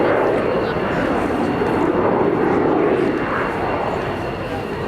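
A Lockheed U-2 Dragon Lady aircraft in a flying display at RIAT, a loud continuous jet roar sustained throughout, with faint speech beneath.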